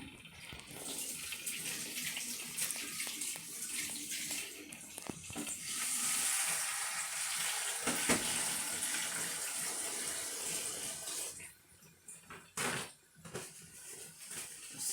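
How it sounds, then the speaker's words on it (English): Hands being rinsed under a running kitchen tap, a steady splashing rush of water that holds for about eleven seconds before breaking into a few short, uneven spurts. "I'm just gonna wash my hands."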